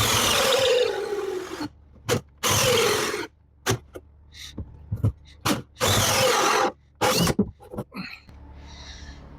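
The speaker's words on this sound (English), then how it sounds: "I'm about to start drilling holes" Power drill boring holes during kitchen cabinet installation in a shed-to-house conversion, several loud bursts of whirring separated by pauses and short bumps, close by with no talking.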